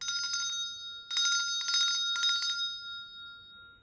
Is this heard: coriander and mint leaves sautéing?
no